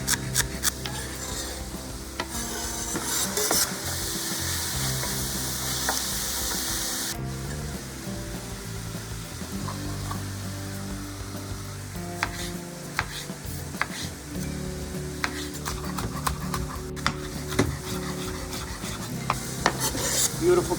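Diced onions and celery sizzle in a hot pan while a utensil stirs and scrapes through them, a close, steady frying crackle with repeated scraping strokes throughout.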